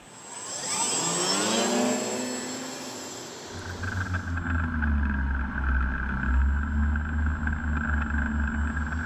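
A small engine on a radio-control model plane buzzes with a rising and falling whine as it passes overhead, then settles into a steady droning hum.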